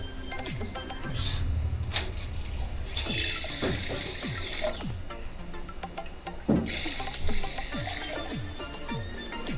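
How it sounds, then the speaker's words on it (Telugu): Water poured onto rinsed rice in a pressure cooker pot, half a glass of rice to two glasses of water, a steady close splashing pour with a few brief pauses and clinks, no talk. "ఇప్పుడు 1/2 గ్లాసు బియ్యానికి 2 గ్లాసులు వాటర్ వేస్తున్నాను."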